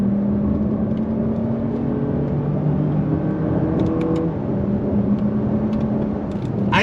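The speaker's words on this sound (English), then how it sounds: "All right, guys, second gear. On throttle, here we go." A 2023 Lexus RX 500h F Sport hybrid SUV accelerating hard in second gear, heard from inside as a steady, smooth engine drone and whir with road rumble, holding an even level throughout.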